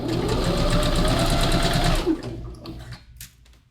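A sewing machine stitches a hem with a double needle in a steady, close, fast whir for about two seconds, then stops, leaving a few faint handling clicks and quiet rustles.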